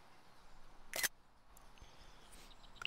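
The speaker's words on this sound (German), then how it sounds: "Foto von Hinweiskunst schießen." A single camera shutter click while taking a photo in Super Mario Odyssey, sharp and brief, followed by a few faint game sounds, no voices.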